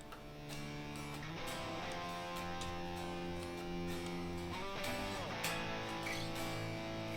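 Two distorted electric guitars panned hard left and right in a Pro Tools mix, playing sustained power chords together as a dense, steady wall of sound with no voices.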